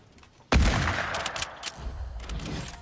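Gunfire in the video game Fortnite: a sharp loud shot bursts in after a quiet moment, followed by a decaying rumble and a few more scattered, quieter reports.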